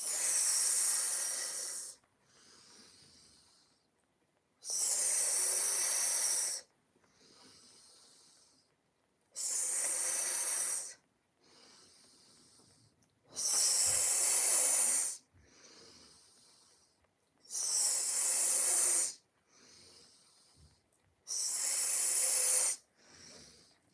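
Hissing out-breaths during a morning qigong breathing exercise, long airy exhalations repeating at a slow, regular rhythm with quieter pauses between, close and fairly soft, no talking.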